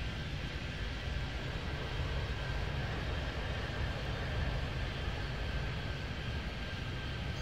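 Steady broadband roar of jet airplanes taking off and landing in the Airport Madness airport-control game set in Miami, a continuous loud engine rumble with no talk.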